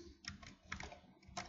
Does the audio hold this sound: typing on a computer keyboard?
yes